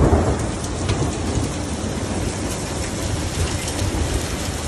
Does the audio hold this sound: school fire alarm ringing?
no